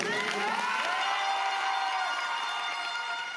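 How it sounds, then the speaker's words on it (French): Audience at an event applauding and cheering, a dense steady wash of clapping with shouts rising over it, moderately distant and sustained throughout. "reste encore un dernier applaudissement, s'il vous plaît."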